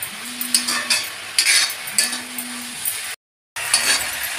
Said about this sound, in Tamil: மூடாமல் தான் கீரை மட்டும் நம்ம வதக்கணும் வேக வைக்கணும்